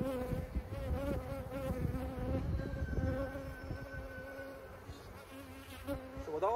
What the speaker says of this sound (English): with all these new baby bees hatching, we should have new bees to make that new comb